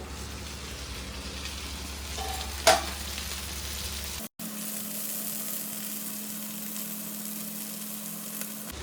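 Tandoori chicken pieces fry in a pan over a low flame, a steady, fairly quiet sizzle with one brief clink partway through, a short dropout, then the even hiss again, with no talking.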